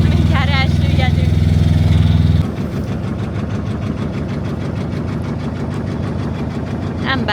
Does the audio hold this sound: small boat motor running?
yes